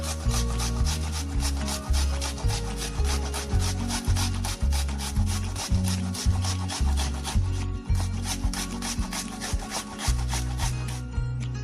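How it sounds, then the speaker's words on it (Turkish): An onion is grated by hand on a grater for meatballs. The close, rhythmic rasping strokes repeat steadily about once a second without pause, and no one speaks. "Soğanı rendeliyorum."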